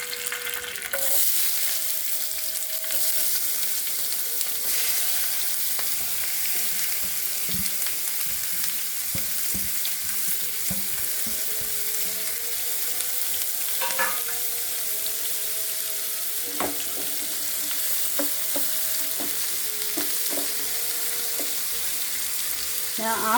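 Green beans fry with mustard seeds and curry leaves in a pan, giving a continuous close sizzle with occasional scraping stir strokes and light clatters, steady and moderately loud, with no talking.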